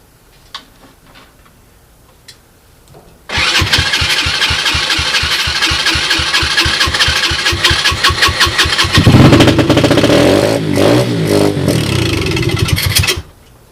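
A 2007 SSR 125cc pit bike engine kicks into life after a few seconds of quiet light clicks, then runs loud and close with a rapid putter before revving up harder and rougher, and cuts off abruptly near the end.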